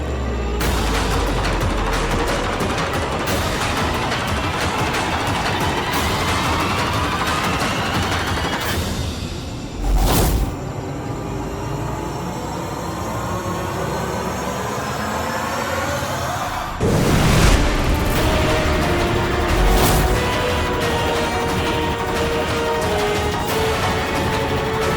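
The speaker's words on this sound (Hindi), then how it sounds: "चला गोली" Gunfire erupts during a scene from a Hindi fantasy TV series, with sharp bursts of shots standing out above a dense, continuous dramatic background soundtrack.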